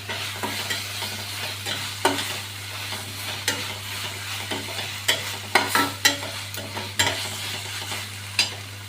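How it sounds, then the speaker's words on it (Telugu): Curry leaves and a pinch of turmeric are stirred into a sizzling pan for egg chutney: a constant close sizzle over a low steady hum, broken by frequent sharp spatula scrapes and taps, no speech. "దీంట్లో కొంచెం కరివేపాకు, చిటికెడు పసుపు వేసుకొని కలుపుకోవాలి"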